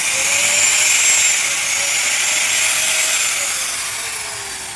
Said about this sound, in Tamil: உங்களுக்கு தெரியுது மிஷின் ஓடுது பாருங்கள்.